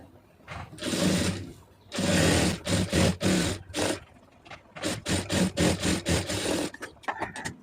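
A sewing machine stitches a blouse lining in repeated short bursts, stopping and starting in an uneven rhythm, close and clear without talking.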